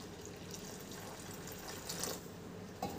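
Lukewarm water pours steadily into flour dough being mixed for kneading, a continuous close splashing trickle with a brief louder splash near the end and no talking.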